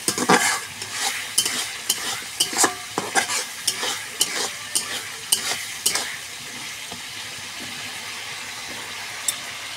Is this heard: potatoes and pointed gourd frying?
yes